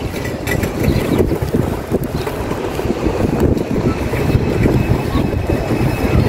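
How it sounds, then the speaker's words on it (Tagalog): Strong gusting wind at an outdoor market in Souq Waqif buffets the microphone with a loud, rumbling roar that rises and falls throughout, with no voices heard. "Mahangin."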